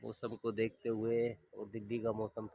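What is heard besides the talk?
No everyday noises stand out.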